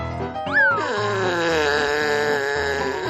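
A cat gives a drawn-out, rising and falling groaning yowl close by, a sustained grumbling cry that is loud and alone over a faint low background.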